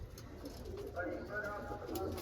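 Breeding pigeons in a loft give soft, low cooing, faint and close, while someone talks quietly nearby.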